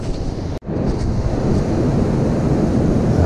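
Ocean waves wash up against a seawall on a beach after a cold front, a continuous close roar of surf with wind buffeting the microphone and one brief dropout near the start.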